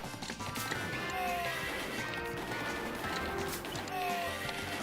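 Horses neigh and gallop in the arcade game Sunset Riders, with loud shrill whinnies over a busy bed of hoofbeats, gunshots and crashes that fill the whole stretch.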